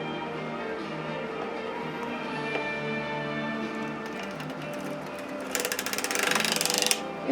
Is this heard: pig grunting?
no